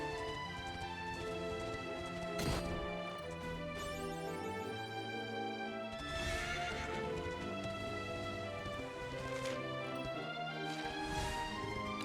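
A horse in the video game Dragon Quest 11 whinnies and clip-clops over continuous game music, hoof beats and neighs recurring through the passage with no voices.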